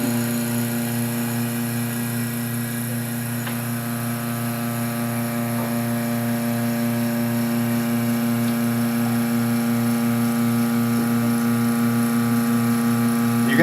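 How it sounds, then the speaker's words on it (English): A vacuum pump runs steadily as it draws the air out of a sealed chamber, a loud continuous motor drone with a strong low hum and fixed tonal whine that holds unchanged throughout, with no speech. "And then I'm going to suck all the air out."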